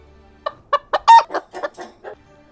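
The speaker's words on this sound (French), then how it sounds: "La poule!" A hen clucks in a quick run of about eight close, loud clucks, rising and falling in pitch.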